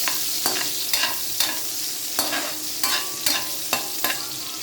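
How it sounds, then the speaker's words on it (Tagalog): Garlic or onion sautés in hot oil in a pan, a continuous sizzle broken about every half second by sharp scraping stirs, close and fairly loud, with no voices. "Gisa na nato ang ahos o bombay."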